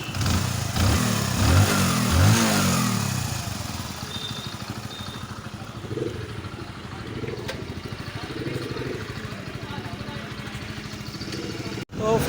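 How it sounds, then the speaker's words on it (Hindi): A freshly rebuilt motorcycle engine runs close by, revving hard at first and then settling into a steady idle with a rapid, even putter, while someone speaks over it. "बाइक का इंजन कंप्लीट हो चुका है और मैं इसे राइड पे लेके जा रहा हूँ"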